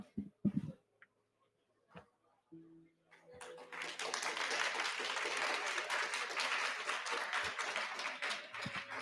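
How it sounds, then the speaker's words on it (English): Audience applause for the winners of a Weiß Schwarz tournament at the BCS 2023 World Finals card game event. A few scattered claps come first, then broad, steady clapping from a crowd that carries on to the end. "Let's have another round of applause for our Weiß Schwarz winners."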